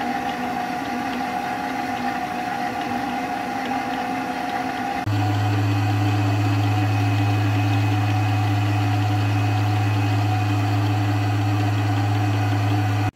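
A steady, loud motor hum kicks in partway through and runs continuously as an electric mixer whips cream at constant speed.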